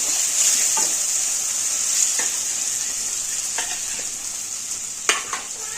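Green chillies roast in ghee in a pan for a fasting khichdi, with a bright, continuous sizzle and occasional spoon scrapes and taps. A sharper clink comes near the end, close and without speech.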